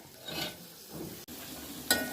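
Soft sizzling and stirring of sliced ivy gourd rounds frying in oil in a pan, quiet and close, with a brief scraping clink near the end.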